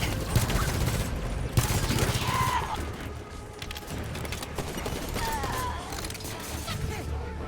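In Halo 5: Guardians, weapon fire crackles in dense bursts alongside mechanical clatter and impacts, loud and continuous through the scene, with a player's voice talking over it.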